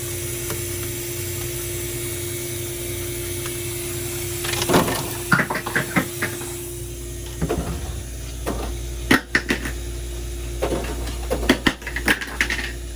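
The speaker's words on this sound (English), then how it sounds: "When you make your first batch of ice on a new machine, you need to throw it away." A new ice machine drops its first harvest of ice into the bin: several clusters of sharp clattering, rattling impacts from about five seconds on, over a steady low machine hum.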